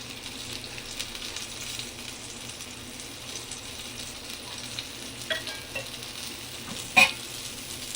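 Coriander powder, garam masala, ground spices and curry leaves stirred into a frying raw-banana and egg curry: a steady, close sizzle with soft scraping strokes and a sharper clack near the end, no voices.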